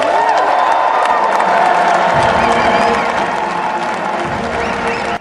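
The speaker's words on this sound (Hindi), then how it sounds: "तालियों की गड़गड़ाहट के साथ डोनाल्ड ट्रंप ने अमेरिका के 47वें राष्ट्रपति की शपथ ले ली।" Dense, loud crowd applause and cheering fill an outdoor presidential inauguration just after Donald Trump takes the oath as 47th President of the United States, a steady roar of clapping and shouts sustained throughout.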